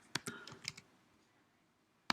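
Computer keyboard typing during a screen-recorded platform game design session: a quick cluster of four or five sharp clicks, a quiet pause, then one more loud click at the end.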